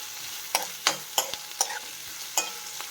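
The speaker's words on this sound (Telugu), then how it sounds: "ఈ పోపు అందులో వేసుకొని కలుపుకోవాలండి." A spoon stirs fried tempering of cumin, urad dal, chana dal, green chilli and onion into gunta ponganalu batter, giving sharp irregular clinks and scrapes against the vessel with a soft wet sizzle between them.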